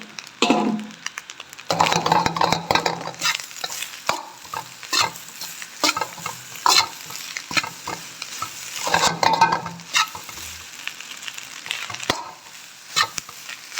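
Cooked rice is tipped into a hot pan for chicken rice and stirred and fried, with bursts of scraping and tossing over a light sizzle, loud and close, pausing between strokes.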